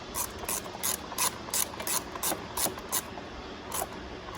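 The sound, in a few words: 1/4 inch drive ratchet with T25 bit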